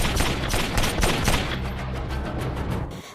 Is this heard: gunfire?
yes